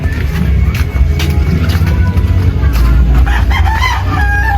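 Several chickens cluck and squawk continuously up close, loud and agitated, over a noisy background with voices mixed in.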